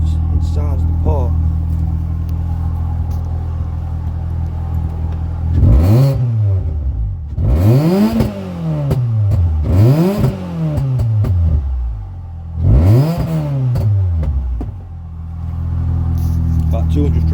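A Ford Fiesta ST150 Mk6 fitted with a Sportex exhaust idles with a low burble, then revs up sharply four times to around 4,000 rpm, each rise and fall loud and close, with a person talking throughout.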